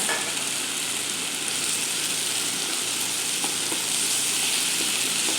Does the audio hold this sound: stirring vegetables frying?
yes